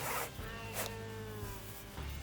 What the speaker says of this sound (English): start with your laces. Just like a regular boot, start at the bottom, pull them up one section at a time, nice and snug.